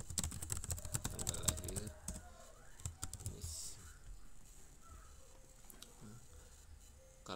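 Computer keyboard typing while laying out certificate text in CorelDraw: a quick flurry of close, crisp key clicks at the start, thinning to scattered taps and pauses, with no voices.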